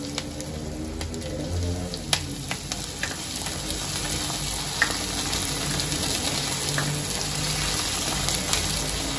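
Tomatoes frying in a pan for Indian-style pasta give a steady, moderately loud sizzle with occasional crackles and light stirring scrapes, and no voice.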